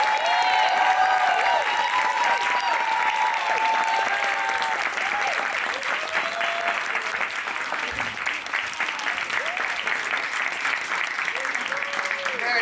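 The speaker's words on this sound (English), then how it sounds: "Let's applaud them as they make way to their seats." Audience applause for a step team at a Dr. Martin Luther King Jr. celebration, a sustained steady crowd clapping that fills the hall, with cheering voices and whoops mixed in throughout.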